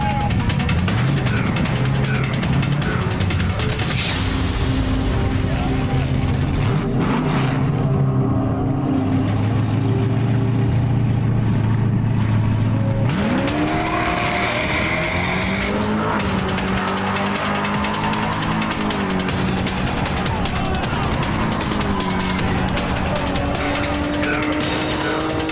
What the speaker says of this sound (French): Jeff Cagle a failli heurter le rail de sécurité en faisant un burn.